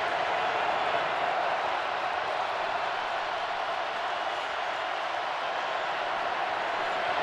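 A football stadium crowd at a 2018 Tennessee vs Missouri game builds a steady, distant roar of cheering for the Tennessee defense, a continuous wash of noise throughout.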